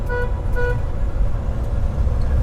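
Two short, faint toots from a truck horn with a failed air horn sound close together over a steady low road rumble, then the rumble carries on alone.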